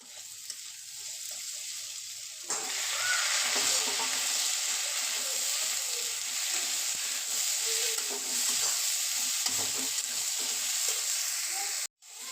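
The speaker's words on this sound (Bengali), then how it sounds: "লাল করে ভাজা হয়ে গেলে ওর মধ্যে ঝিঙাগুলো দিয়ে দেব। ঝিঙাগুলোকেও লাল করে একটু ভেজে নেব।" Ridge gourd and potato fry in a pan with a loud, continuous sizzle that surges as they go in, broken by occasional scraping stirs; no one speaks.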